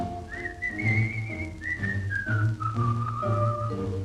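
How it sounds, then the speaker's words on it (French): A man fishing whistles a cheerful tune, clear sustained notes gliding up and down in a steady melodic line, close and alone. "il sifflote une chanson"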